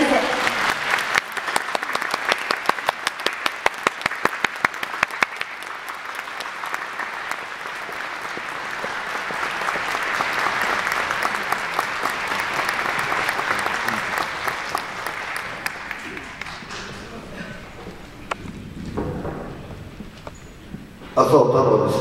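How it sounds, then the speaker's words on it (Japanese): A large audience at a political speaking event in Hamamatsu gives long, sustained applause welcoming former Prime Minister Taro Aso, dense and steady for most of the span before thinning out near the end. "どうぞ皆様盛大な拍手でお迎えくださいませ。"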